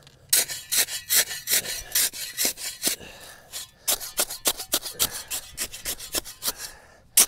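Gravel is packed and tamped under a multi-piece cemetery monument during re-setting, making a series of close, gritty scraping and crunching strokes in an irregular rhythm.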